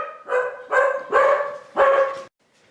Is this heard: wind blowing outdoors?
no